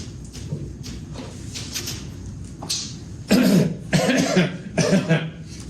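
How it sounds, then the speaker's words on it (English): Several loud, harsh coughs come in bursts in the second half of a chemistry lecture, following quieter rustling and soft background noise. "I'm coughing not because I have a cold."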